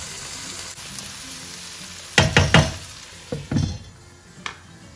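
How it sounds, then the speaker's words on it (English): Chopped tomatoes and spices sizzle softly in a pan over low to medium heat, a quiet crackle broken by a few sharp clatters and scrapes of a utensil against the pan, with no voices. "now I'm going to cover and cook this on slow to medium heat for 10 minutes"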